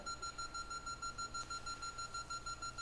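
Indoors at a historical society talk, an alarm beeps faintly in a room as a steady high tone that pulses in a regular rhythm, with no talking over it.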